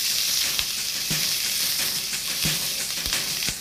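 Bell peppers frying in olive oil in a pan, a steady bright sizzle running throughout with occasional soft clicks of stirring, close and alone without talk.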